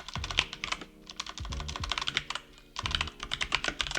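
Rapid, uneven keystrokes on a computer keyboard while C# code is typed, clattering in bursts with a brief pause in the middle, close and fairly quiet.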